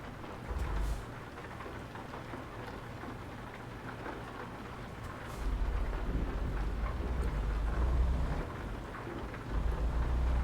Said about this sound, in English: All right, we got some rain.